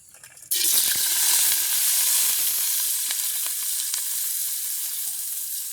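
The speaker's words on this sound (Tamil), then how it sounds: "நாங்கள் பட்டி வச்சுக்கிற வெங்காயம் பச்சை மிளகாய் கருகப்பமில்லை எல்லாத்தையும் போட்டு பதக்குவோம்" Onion, green chili and curry leaves hit hot oil in a village kitchen while preparing rava vada; after a brief quiet moment a loud, sudden burst of sizzling erupts and keeps crackling steadily, with no voices.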